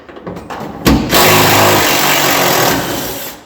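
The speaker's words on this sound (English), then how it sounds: "I got to get my drill back over here." A power drill runs during work pulling a seat from an AMC Gremlin, starting with a sharp burst then holding a loud, steady high whine for several seconds, close by with no talk.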